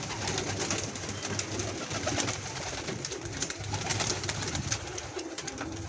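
Pigeons coo steadily at close range in a loft, their soft, repeated calls overlapping in a continuous low murmur with no speech.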